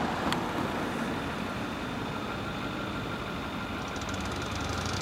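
A 1942 Harley-Davidson WLA 45 cubic inch flathead sidevalve motorcycle engine runs steadily throughout, a dense, continuous rumble close to the microphone with no speech over it.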